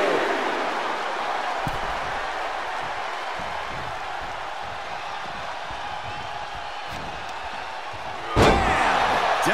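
A WWE 2K24 wrestler crashes to the mat with one heavy, booming slam near the end, cutting through a constant roar of arena crowd noise.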